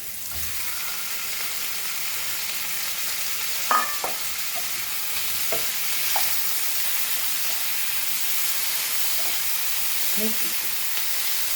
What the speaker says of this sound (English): We'll add our tomatoes and chilies to this.